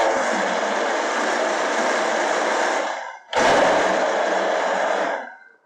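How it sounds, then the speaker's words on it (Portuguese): A kitchen blender whirs loudly while mixing cake batter with powdered milk, two steady pulses of motor roar separated by a brief stop, the second tapering off at the end. "eu dou uma pulsadinha no liquidificador para ficar um pouco mais fácil"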